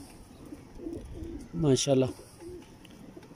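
Pigeons coo with a soft, rolling burst that swells up close, set among a pigeon pair offered for sale, while someone speaks briefly over faint background murmur.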